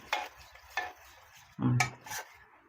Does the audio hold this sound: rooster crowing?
no